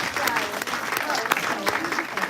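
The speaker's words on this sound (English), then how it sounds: "Let's give them a huge round of applause." Dense, steady applause from a synagogue congregation at a Scout Shabbat service fills the whole stretch, loud and close, with no pauses.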